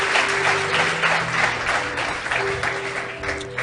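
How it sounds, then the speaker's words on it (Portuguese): A church congregation at a bimonthly workers' supper service applauds, dense continuous clapping filling the room for several seconds, with faint voices and a sustained tone underneath. "Aplauda o Senhor, coloque-se de pé."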